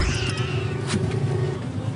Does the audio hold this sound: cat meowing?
yes